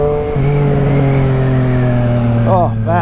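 A Triumph Street Triple 765RS motorcycle fitted with an SC Project exhaust rides close by with a deep, steady engine drone, then its pitch swoops briefly as it revs near the end.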